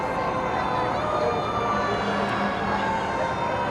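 A loud, continuous emergency siren wails close by at a Christmas parade, layered with engine rumble and dense traffic noise throughout.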